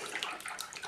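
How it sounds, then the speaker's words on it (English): A liquid-damaged laptop keyboard gently agitated while soaking in a basin of hot water, a short close burst of sloshing and trickling with small splashes. "give it a good soak in this nice hot water. Agitate it slightly."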